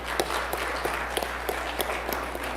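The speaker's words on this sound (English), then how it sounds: "Let's give him a round of applause." A church congregation gives a round of applause for a birthday during a Sunday worship service, steady scattered clapping filling the hall at moderate level with no speech over it.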